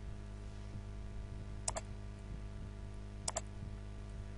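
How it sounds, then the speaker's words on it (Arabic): Two quick pairs of computer keyboard key presses, each a crisp double click, typing a Ctrl+T shortcut in graphics software, faint and close against a quiet background hum. "نضغط على الكيبورد كمان كنترول تي"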